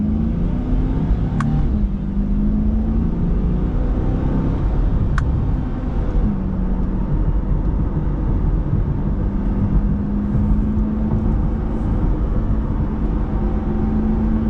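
A Corvette C8 driven in manual mode, heard from inside the cabin as a loud, continuous engine drone whose pitch climbs and drops through several gear changes, with a couple of sharp clicks.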